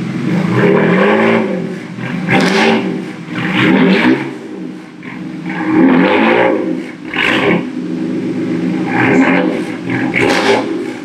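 A car engine revs repeatedly nearby, rising and falling in loud, raspy surges with a rough, rattling exhaust note from a cracked exhaust.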